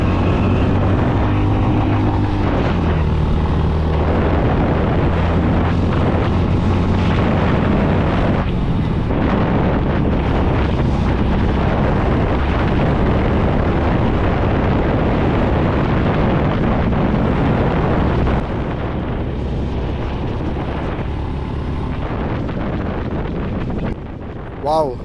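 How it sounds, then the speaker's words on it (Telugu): Engine of a 2025 Honda H'ness CB350 motorcycle pulling hard on an open highway, a deep exhaust roar that climbs and then holds steady, heavily buffeted by loud wind noise, with a rider talking intermittently over it. "హైవే మీద థ్రోట్లు ఓపెన్ చేస్తాను ఒకసారి."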